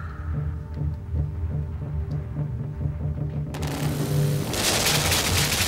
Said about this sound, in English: The machine gun fire.